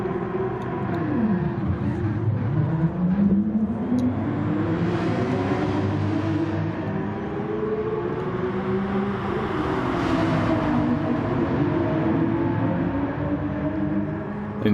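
Racing cars roar through a video game race replay, a continuous loud engine drone with pitch sweeping up and down as the cars accelerate and shift, steady throughout with no talk.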